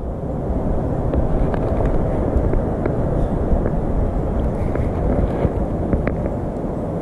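Blustery wind after a snowstorm, a steady roaring rush with gusty buffeting against the microphone, broken by faint scattered ticks.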